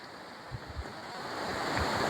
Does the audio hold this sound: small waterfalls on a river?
yes